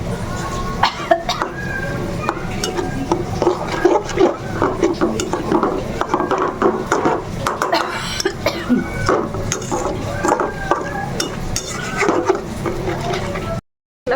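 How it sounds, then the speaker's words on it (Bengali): Spice paste for a Bengali celebration dish being stirred and fried in a pan with a little water, with steady scraping and rasping of the spoon against the pan and a continuous sizzle throughout. "জল দিয়ে আমি মশলাটাকে ভালোভাবে কষাবো।"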